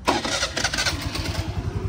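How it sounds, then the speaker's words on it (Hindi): A scooter engine cranks and catches, sputtering briefly before settling into a quick, uneven putter. "स्कूटी चालू कर रहे हैं हम"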